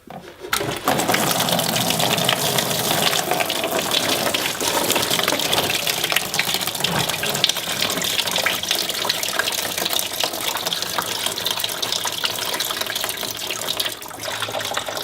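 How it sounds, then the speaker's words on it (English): Coolant drains out of the radiator of an MK1 VW Rabbit, a steady splashing gush of liquid that runs continuously at close range and drops off slightly near the end. "Let that drain for a few minutes until it stops dripping"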